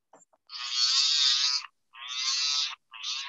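A rotary abrasive tool grinding the seam off a sand-cast ring set with stones, heard as three close buzzing bursts of decreasing length separated by short silences.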